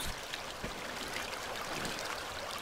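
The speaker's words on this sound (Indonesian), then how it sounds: "ada sungai di sini, Blay." A stream running close to a dam in the woods gives a constant, moderately loud gurgling rush with one soft thud early on, and nobody speaks.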